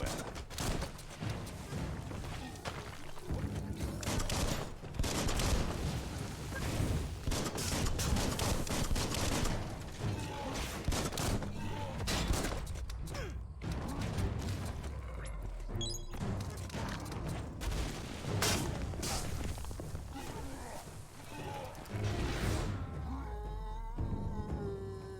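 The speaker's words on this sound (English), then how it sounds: "Bullets everywhere." Dense gunfire in the action role-playing game Biomutant, with near-continuous volleys and impacts at moderate volume. Crashes and odd creature-like cries are scattered through the barrage.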